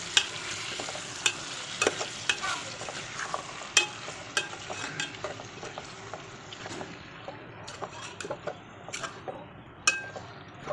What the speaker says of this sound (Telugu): తర్వాత కరివేపాకు, చికెన్ వేసుకున్నాక కలుపుకోవాలి